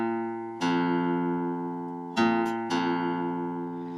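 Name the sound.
guitar notes on sixth string and open fifth string compared for tuning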